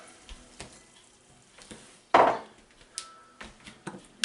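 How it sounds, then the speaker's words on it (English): White Riesling wine being stirred into a pickling mixture for northern pike, with scattered light scrapes and knocks of a utensil against the container and one louder clatter midway. "Give it a stir."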